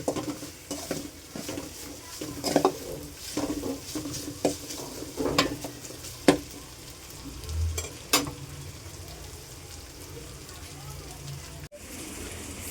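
Chicken fries in a pan with turmeric while a spoon stirs it, giving a steady sizzle broken by repeated scraping and clanking of utensil against metal, close and fairly loud, with a voice speaking now and then.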